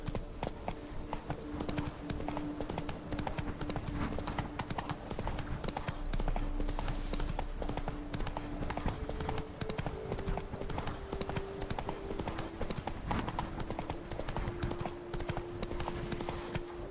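Roach, a horse in The Witcher 3, gallops with a fast, steady clip-clop of hooves that continues throughout, set against game ambience and music.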